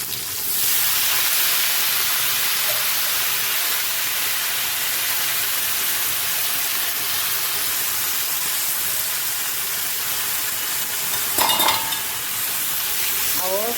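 Mutton curry with fat, tomatoes and peas fries in a pan with a loud, constant hissing sizzle close by, a brief clatter of a utensil near the end, and no voices.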